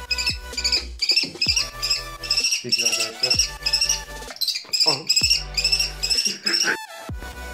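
A young kestrel chick, found as a fledgling near a factory and hand-raised, gives repeated high, shrill chirping calls in rapid bursts, loud and close, while someone speaks over parts of it.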